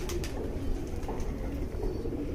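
Pigeons in a loft or flock coo in low, steady murmurs alongside soft rustling, continuous and fairly close throughout, with no talk.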